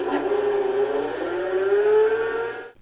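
A sound effect from a 2019 Hess toy tow truck plays when its ramp is pulled out: a steady electronic whirring drone with a faintly rising pitch. It is close and fairly loud, runs about three seconds and then cuts off abruptly.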